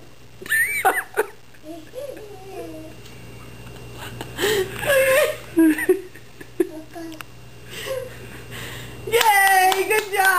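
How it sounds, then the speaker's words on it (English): A golf clap, soft light hand clapping in a few short bursts, close by and mixed with a young child's giggles, squeals and cheerful chatter from adults. "And golf clap."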